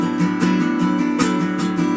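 Acoustic guitar strummed in a steady down-up pattern, chords ringing loud and close with regular rhythmic strokes and no voice.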